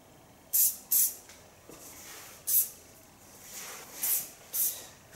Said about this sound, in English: On top of that I use the hairspray.